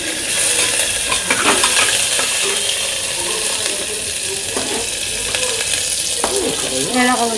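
Onion and papaya frying in white oil in a pan, a steady loud sizzle with occasional stirring clinks and scrapes of a utensil throughout.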